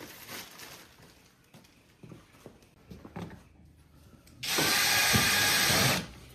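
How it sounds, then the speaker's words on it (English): A power drill bores holes through the lid of a plastic tote tub, with scattered handling clatter first, then a loud, steady whine of drilling for about a second and a half before it stops. "we're going to put a few more holes around it and add zip ties"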